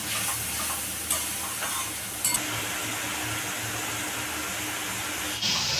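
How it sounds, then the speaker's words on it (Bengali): Spice paste for a cauliflower roast fries and is stirred in a pan, a steady dense sizzle running throughout with a few brief scraping clinks of the spoon, close and fairly quiet, no voices. "এটা একটু ভালো করে কষে নিব তারপরে বাকিটা মশলা দেবো"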